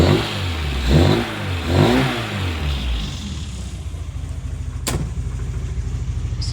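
A classic Mini engine runs while still cold, first revving up and down in a few deep rising and falling surges, then settling into a steady, close idle with a faint click partway through.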